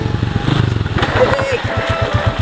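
A motorcycle engine idles and revs nearby with a steady, throbbing putter, while people talk over it.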